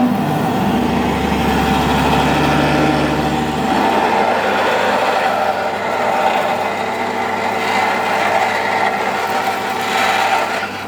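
A lathe drilling with a bigger drill at a slower gear, swarf coming off both flutes; a loud, steady mechanical drone with a low motor hum that shifts after a few seconds, no talk.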